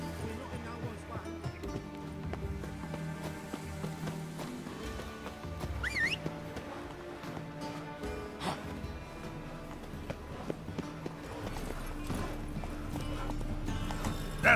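Horse hooves clip-clop at a steady trot in The Witcher 3 video game, a continuous rhythmic clatter under game music, with a brief neigh partway through.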